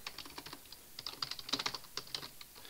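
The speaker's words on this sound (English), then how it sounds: "I'm going to try to type this out really fast now" Rapid typing on a computer keyboard while writing Java code, a quick irregular patter of close, fairly quiet key clicks with no speech.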